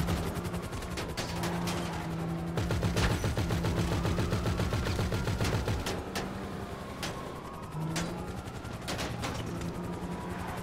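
Gunfire in the video game GTA 5 at an airport with police: dense bursts of automatic fire and single shots crackle continuously, loud and close, with mechanical hum underneath.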